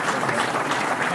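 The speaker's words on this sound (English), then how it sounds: "So please give Paul a round of applause and thank you." A banquet audience at a football hall of fame induction breaks into dense, steady applause, loud and close throughout with no gaps.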